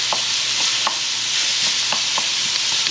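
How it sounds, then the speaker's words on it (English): Wild hog pork belly sizzles steadily in a pan, a continuous loud hiss broken by occasional soft clicks and pops of the fat, with no talking. "So I am going to fry this down to get as much of the grease out of it as possible"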